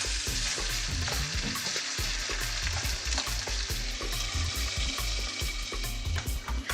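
Ginger and garlic paste frying with spices in a hot pan for an Indian dish, a steady dense sizzle with stirring scrapes and clatters running throughout, close and loud, with no talk.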